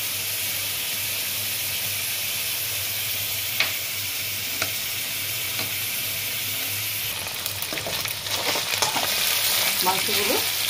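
Minced chicken fries in a pan with a constant, even sizzle and hiss, and scraping stir strokes grow busier near the end; no talking.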